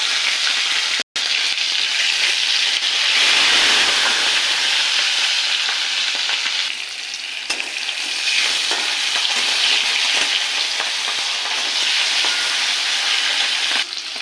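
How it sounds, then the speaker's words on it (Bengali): A hilsa fish head coated in salt and turmeric fries in hot oil, a loud, continuous crackling sizzle that swells and eases slightly as it is stirred, with no talking. "মাছের মাথাটায় লবণ হলুদ দিয়ে মেখে ভেজে নেব। তেল গরম হয়ে গেছে, তেলের মধ্যে ছেড়ে দেব।"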